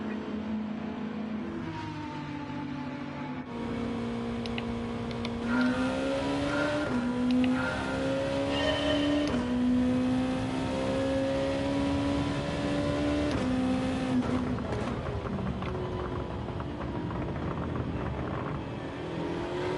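McLaren GT3 race car in Gran Turismo 7, its engine droning steadily and rising in pitch through gears, with tire noise and other cars close by, loud and continuous without talk.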